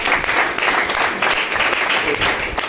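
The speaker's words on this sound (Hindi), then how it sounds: "बड़े बड़े जोरदार ताली होनी चाहिए।" Dense, steady applause from an audience at a wellness product gathering, a continuous broadband patter of many hands lasting the whole moment, fairly loud and close, with faint voices mixed in.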